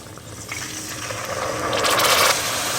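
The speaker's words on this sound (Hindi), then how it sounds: "अब इसमें सिरका डालेंगे" Vinegar pouring into beetroot pickle masala in a pan: a steady liquid splash that swells and grows brighter as the stream keeps running, heard close up.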